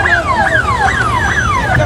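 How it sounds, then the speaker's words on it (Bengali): Ambulance siren passing in the street, a rapid repeating yelp that sweeps down over and over in a steady rhythm, loud and close over road noise. "অ্যাম্বুলেন্স আছে সরে যাও।"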